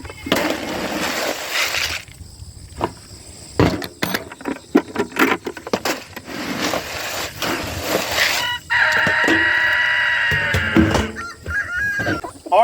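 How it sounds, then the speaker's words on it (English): Chickens at feeding time on a homestead, with rooster crowing and hens clucking in bursts, near and fairly loud, mixed with handling noises and a long crow late on; no talking. "Now it is time to feed the chickens."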